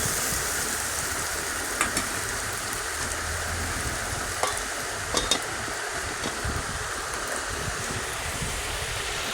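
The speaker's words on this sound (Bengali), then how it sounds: "আমার পেঁয়াজটা ভাজা হয়ে গেছে প্রায়" Onions frying in a covered pan in a home kitchen, a steady close sizzle throughout with a few faint clinks and stirring knocks and no speech.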